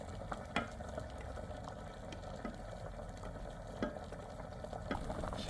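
A pot of Korean red bean porridge (dongji patjuk) with rice and glutinous rice balls is stirred on the stove, giving a steady low simmering bubble with soft scraping stirs and a few sharper knocks against the pot.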